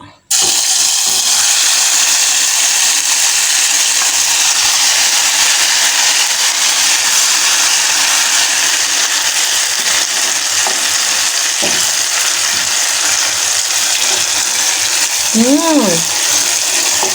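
Ground sambal leunca paste dropped into hot cooking oil, a loud steady sizzle and crackle of frying that carries on throughout, with brief stirring scrapes near the end.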